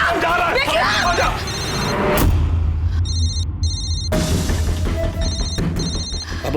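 A landline telephone rings in bursts of repeated electronic trills, loud and close, with a crash and people talking around it in a tense domestic scene.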